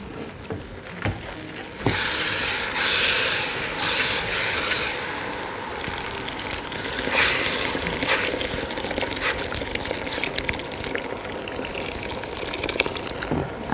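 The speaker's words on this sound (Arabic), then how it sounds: "هنحط كوبايتين ميه" Two cups of water poured into a cooking pot while making koshari with yellow lentils: a steady splashing, gurgling pour up close that starts after a brief pause and continues at a fairly even level, with no talk.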